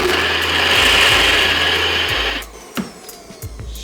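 A NutriBullet blender runs in a loud, close whirring burst for a couple of seconds, then cuts off, followed by a few clicks and clunks of handling.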